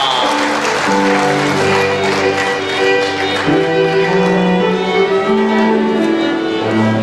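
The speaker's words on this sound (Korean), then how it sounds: "여러분 큰 축하의 박수, 화합의 박수" Congratulatory applause rises at a 2012 Korean literary award ceremony, the clapping running steadily beneath loud sustained music that plays throughout.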